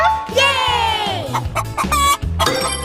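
A chicken clucks in a series of close, loud, rhythmic calls, played as a sound in an animal-guessing game, with no voices over it.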